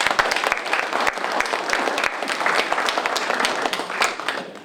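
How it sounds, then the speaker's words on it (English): Audience applause at a historical society meeting about the Wiedemann Brewery in Newport, a steady room-wide burst of many hands clapping for several seconds before fading slightly at the end. "Let's give them a round of applause."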